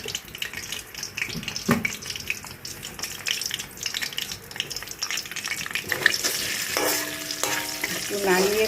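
Meat, bay leaves and whole garam masala sizzling in an iron kadai while being stirred, a busy continuous crackle with scraping strokes, joined near the end by running tap water, no voices.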